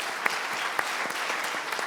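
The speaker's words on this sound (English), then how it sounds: "Give these guys a round of applause." Steady applause from an audience at a panel discussion, a dense even wash of clapping that fills the whole stretch with no voices on top.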